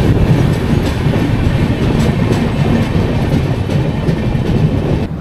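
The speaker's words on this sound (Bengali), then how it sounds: "ট্রেন আমাদের এখন ছেড়ে দিল সোরো স্টেশন।" Howrah–Puri Superfast Express pulling away from Soro station, a steady loud rumble of wheels on rail with rhythmic clickety-clack throughout, close and continuous, no voices.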